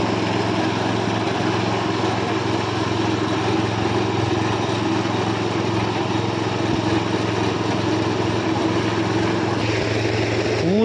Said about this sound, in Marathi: ऊस पूर्ण साफ केल्यानंतर आपण आता रस काढायची प्रोसेस चालू केलेली आहे